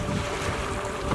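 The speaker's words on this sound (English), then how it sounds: "The cascading waves of the lake in the wind look very charming." Wind blows across the open water of Mansarovar Lake at Kailash, with waves lapping under a continuous broadband rush and microphone buffeting. No voices are heard.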